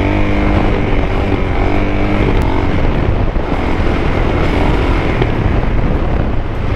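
A motorcycle engine drones steadily and loudly during riding, low harmonic hum blended with heavy wind rush on the microphone throughout, no talking.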